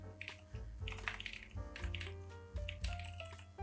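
Fingers type quickly on a computer keyboard, a close, quiet, irregular run of crisp key clicks and taps with short pauses.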